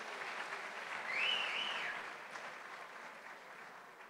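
Applause from an audience at a Brazilian literary festival tribute to Machado de Assis, a steady broadband patter of clapping heard from some distance that swells briefly and then settles, with no talk over it.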